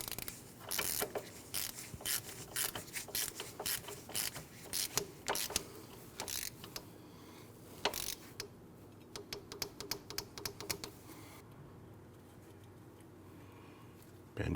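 Ratcheting wrench clicks as an outer tie rod nut is tightened on a 2012-2016 Honda CR-V, a close, irregular series of sharp mechanical ticks in bursts, thinning out toward the end.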